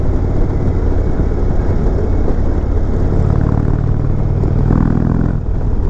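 A 2020 Indian Chieftain Limited motorcycle with stock exhaust rumbles steadily while riding, a loud continuous low engine drone mixed with wind rush, rising slightly near the end.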